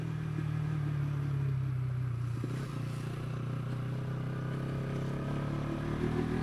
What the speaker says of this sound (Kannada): Engine breaking.